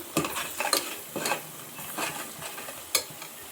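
Masala with coriander powder stirred and fried in a pan for sambar, giving a close scraping, stirring clatter with a soft sizzle underneath and a few sharper spoon knocks against the pan.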